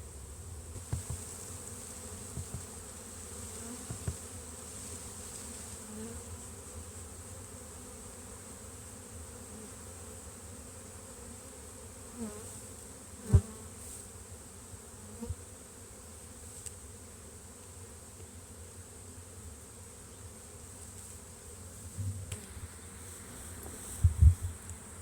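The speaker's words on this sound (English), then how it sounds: "the bees seem to be fanning at the entrance" A swarm of bees fans at the entrance of a hive box, making a steady, continuous droning hum close by, with occasional soft knocks and bumps.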